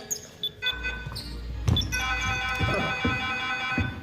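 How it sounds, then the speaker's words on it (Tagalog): A buzzer sounds during an outdoor 35-and-up basketball league game, a sharp tonal blast over ball bounces and gym noise, followed by scattered thuds and squeaks on the court. "Buzzer, buzzer, buzzer."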